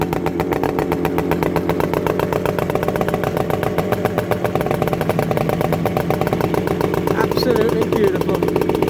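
Restored Suzuki GT200 X5 motorcycle engine running close by, a steady rapid two-stroke putter with light mechanical clatter, while a voice speaks over it.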